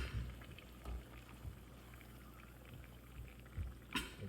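Toasted coconut beignet dough fries in hot oil, giving a faint, steady bubbling and crackling, quiet and continuous with a few slightly louder pops.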